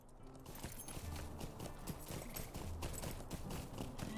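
Horse hooves clip-clop in The Lord of the Rings Online video game, a steady rapid clatter of hoofbeats on ground over a low background bed, fairly quiet and without talk.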